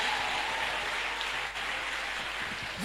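A church congregation applauding in praise of Jesus Christ: steady, dense clapping from many hands that fills the room for the whole stretch.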